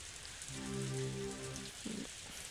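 Rain falls in the farming video game Story of Seasons: A Wonderful Life as a soft, steady hiss of patter, with short musical tones sounding over it.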